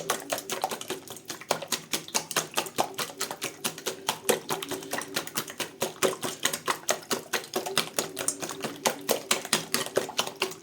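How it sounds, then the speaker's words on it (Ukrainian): A whisk beats eggs and sugar rapidly against the side of a bowl, a fast steady clatter of sharp taps continuing throughout. "вибила я 5 яєць і трошки цукру"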